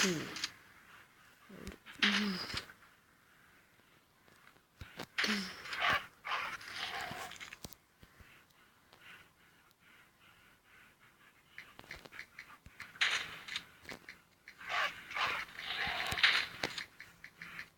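A dog in the zombie video game Into the Dead pants and whimpers in short bursts, separated by quieter gaps, with someone talking over parts of it.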